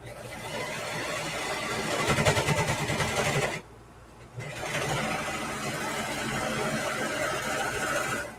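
A Brother 1034dx serger stitches fabric with a loud, continuous mechanical hum, pausing briefly in the middle before running on again.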